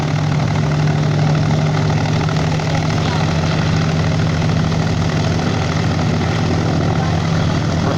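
Lockheed Hudson aircraft engines running and powering up at an air show in Edinburgh, South Australia, a steady loud droning roar with a strong low hum, heard continuously at moderate distance.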